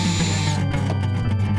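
A power drill drives a screw at a steep angle into shelf wood, a loud close whine that shifts into rough stuttering grinding as the screw bites, with no talk.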